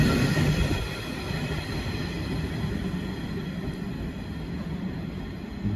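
A pair of Class 377 electric trains pass through at speed, out of service, producing a loud, continuous rumble and roar of wheels on track that swells at the start and then holds steady and close.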